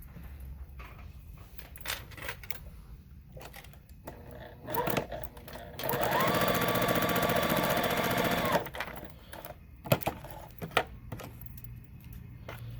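A sewing machine joins quilt pieces for a steady few seconds of rapid stitching, framed by softer handling clicks, rustles and taps before and after, with no talking.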